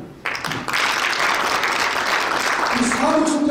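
An audience at a national Christian federation representatives' meeting breaks into sustained, loud applause that starts abruptly and fills the room, while a speaker's voice continues over it.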